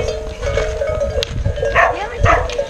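A dog in a village gives a few short barks at a moderate distance, with a steady tone and other faint rural sounds in the background.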